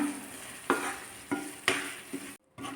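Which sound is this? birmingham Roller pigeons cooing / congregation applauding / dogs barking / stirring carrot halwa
stirring carrot halwa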